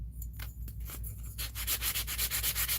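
Sandpaper rubbing on a collage piece to flatten it, quiet at first with short strokes, then faster, louder rhythmic back-and-forth scrubbing close up, no talking.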